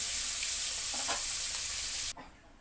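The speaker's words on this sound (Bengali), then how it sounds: "মাছগুলো সুন্দর করে ভেজে নিচ্ছি" Fish for a tomato fish curry sizzles steadily in hot oil in a pan, a loud continuous hiss with a few faint clinks, cutting off abruptly near the end.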